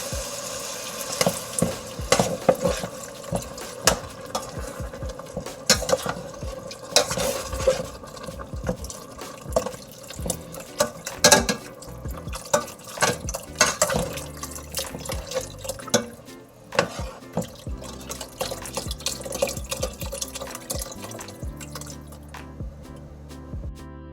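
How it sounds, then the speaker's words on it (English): A whole box of vegetable stock is poured into a pot of corn chowder, giving continuous splashing and gurgling liquid with drips and light sizzling, close and steady, with no talking. "So I'm going to go ahead and add this soup, the whole entire box, into it."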